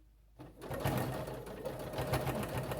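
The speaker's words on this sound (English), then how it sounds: "Back stitch a couple times." A sewing machine back stitching an elastic seam on a fabric eye mask starts up after a short quiet moment and then runs at a steady, close, rapid whir.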